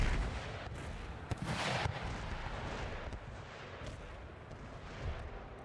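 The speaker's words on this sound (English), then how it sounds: "open fire on that enemy unit" Troops in Empire Total War open fire on an enemy unit, giving a rolling, continuous rattle of massed musket fire with booming reports, heard at moderate distance without talk.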